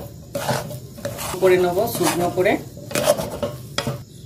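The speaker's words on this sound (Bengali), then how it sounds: "ভালো করে নেড়ে চেড়ে একটু শুকনো করে নেবো।" Sattu flour filling with raisins stirred in a pan: a spoon scrapes and clinks against the metal in quick, uneven strokes, close and fairly loud, with a faint sizzle and no talk.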